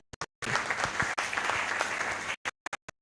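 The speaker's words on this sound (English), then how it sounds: "A round of applause for them" Warm crowd applause at a public anniversary lecture rises abruptly, holds steady for about two seconds, then cuts to a few scattered final claps.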